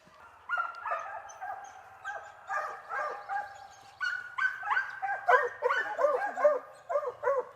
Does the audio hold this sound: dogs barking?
yes